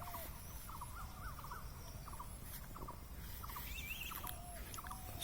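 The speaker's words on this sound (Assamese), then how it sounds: "চৰাই চিৰিকটি মাত নিশ্চয় শুনিছে।" Small birds chirp in a quiet village setting, their short repeated calls faint and distant over a low outdoor hum, with no voices nearby.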